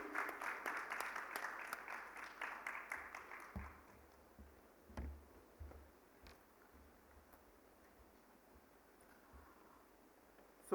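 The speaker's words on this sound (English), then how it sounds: "Please, a big round of applause for them" An audience at an indoor panel discussion on India's UPI digital payments applauds briefly, a faint, distant patter of clapping that fades within a few seconds into quiet room tone with scattered knocks.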